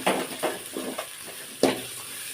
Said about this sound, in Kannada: ಉಪ್ಪು ಹಾಕಿದ್ಮೇಲೆ ಅದನ್ನೊಂದ್ಸಲಿ ಫ್ರೈ ಮಾಡ್ಕೊಳ್ಳಿ.